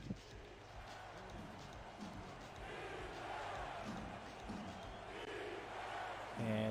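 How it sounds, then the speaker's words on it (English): A home crowd at a New Orleans football game against Houston roars steadily for its defense, a broad, sustained wash of noise from the stands that swells slightly near the end, with a voice talking over it. "the home crowd cheering on their defense"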